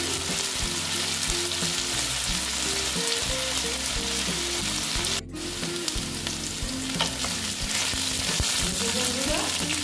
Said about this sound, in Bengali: আলুগুলোকে আমি ভালো মতো ভেজে নিচ্ছি।